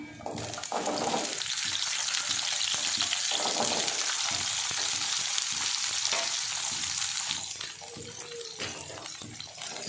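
Small onions fry in a pan for a mutton curry, giving a steady, close, even sizzle that lasts throughout with faint stirring.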